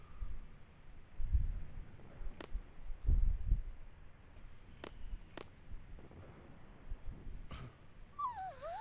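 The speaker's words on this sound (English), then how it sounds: "Oh man, the puppy's kind of cute." A puppy in the video game Final Fantasy VIII whimpers and yips in a few short, soft bursts, scattered among quiet game ambience and faint effects.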